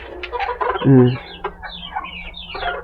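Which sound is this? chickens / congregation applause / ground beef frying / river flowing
chickens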